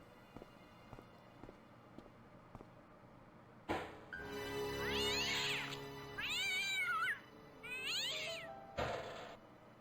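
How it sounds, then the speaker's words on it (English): Cat in the Broken Sword video game gives three clear, drawn-out meows in a row, close and fairly loud, following a few soft tapping steps and a sharp onset sound. "No, but there was a cat."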